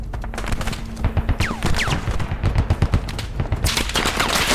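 Rapid bursts of automatic gunfire in the military shooter game Squad, dense repeated shots with a few whizzing passes, loud and close throughout.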